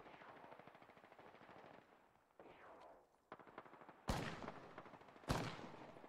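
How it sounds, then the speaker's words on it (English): Gunfire crackles in the battle royale video game Apex Legends, with distant rattling bursts followed by two loud, sharp nearby shots as squads exchange fire, with no talking. "They're taking pop shots."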